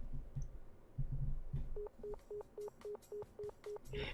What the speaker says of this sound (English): Why is no one picking up the phone?